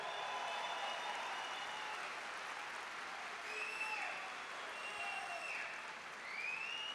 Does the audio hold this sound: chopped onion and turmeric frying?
no